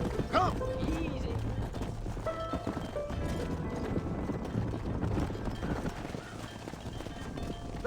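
A herd of horses trots into a pen in Red Dead Redemption, with steady overlapping clip-clop hoofbeats, a brief whinny and a busy ambient backdrop throughout.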